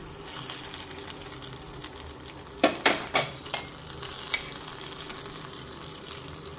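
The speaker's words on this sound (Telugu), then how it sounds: "జీడిపప్పు కిస్మిస్ అయితే వేగినాయి నేను ఇందులో వేసేస్తున్నాను చూడండి" Fried cashews and raisins are tipped into a pan of rava kesari and stirred; a soft background sizzle runs under a quick cluster of sharp clatters and scrapes from the spoon and nuts midway, then a few lighter taps.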